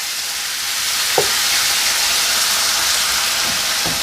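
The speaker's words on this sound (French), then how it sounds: "Un petit peu d'eau et on va laisser mijoter 3 minutes." Water with Thai bouillon bubbles in a pan in a dense, steady hiss close by, with a couple of faint knocks and no voices.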